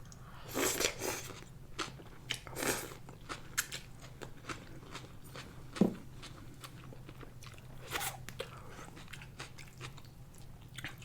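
Close-up biting and chewing while eating pho with jalapenos, with a few distinct crunchy bites and softer wet chewing in between, and no talking.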